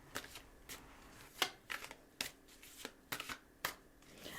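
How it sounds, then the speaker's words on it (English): Tarot cards being shuffled during a card reading: a series of crisp riffling bursts at an uneven pace, some sharper and louder than others, up close with no talking. "Let's go to the tarot cards here."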